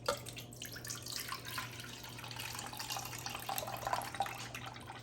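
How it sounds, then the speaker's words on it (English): Juice from a 15-ounce can of mandarin oranges draining into a bowl, a soft continuous trickle and splash heard close by at low volume over a steady background hum. "we're going to drain the juice into a bowl"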